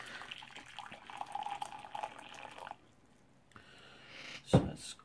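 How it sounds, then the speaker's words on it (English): Water being poured into a canteen cup while preparing a US cold-weather ration: a soft, close trickle of liquid with a brief louder splash near the end. "Let's pour that into my cup."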